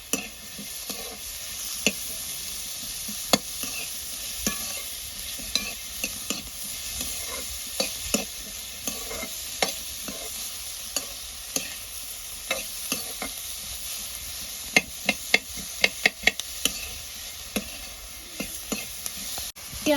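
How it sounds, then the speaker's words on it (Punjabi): Onions frying in a little refined oil in a pan, a steady close sizzle broken by frequent sharp scrapes and clacks of stirring, with no talk. "ਪਿਆਜ਼ਾਂ ਨੂੰ ਵੀ ਆਪਾਂ ਫਰਾਈ ਕਰ ਲੈਣੇ ਬਿਲਕੁਲ ਥੋੜਾ ਜਿਹਾ ਰਿਫਾਈਨਡ ਆਇਲ ਪਾਇਆ"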